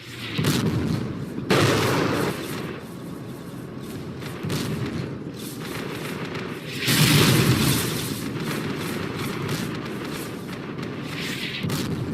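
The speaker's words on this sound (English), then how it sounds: "The ABV again moves forward, fires its second Miklik, and begins plowing the lane." A mine-clearing line charge fired from an ABV in Project Reality detonates as a string of heavy booms and blasts, loud bursts recurring over a sustained low rumble of battlefield noise.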